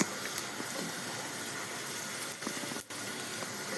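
Chopped onion sizzles in hot oil as a faint, steady hiss with small crackles and pops scattered through it, quiet and continuous for a few seconds.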